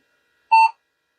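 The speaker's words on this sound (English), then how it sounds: "One beep. That's what we want." A single short electronic startup beep from a vintage computer, clear and fairly loud, lasting about a quarter second and followed by silence.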